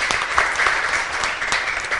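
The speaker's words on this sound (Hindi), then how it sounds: "तालियों से इनका स्वागत कीजिए।" Brisk applause from a group of people, a continuous patter of clapping filling the short moment.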